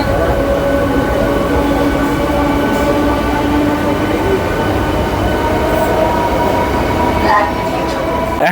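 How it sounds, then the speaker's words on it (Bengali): A Howrah–Bandel EMU local train departs, a loud continuous rolling rumble with tonal motor whine and occasional rattles, nearby and steady, with a voice speaking over it. "এটা ছেড়ে যাচ্ছে হাওড়া থেকে ব্যান্ডেল পর্যন্ত"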